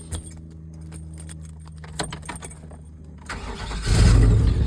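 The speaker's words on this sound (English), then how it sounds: "We'll start the vehicle up." Keys jangle in the ignition of a dump truck, then the engine cranks and rumbles to life, ending in a loud, steady low idle.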